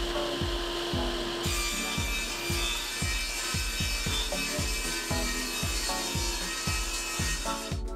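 A saw rips a poplar board with steady back-and-forth strokes, about two per second, producing close, rasping woody cuts in an even rhythm that continues throughout with no voices.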